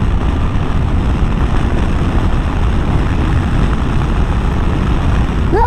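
Yamaha Tenere 700 adventure motorcycle cruising in sixth gear, a loud, steady engine drone mixed with rushing wind, unbroken and close throughout, with no talking.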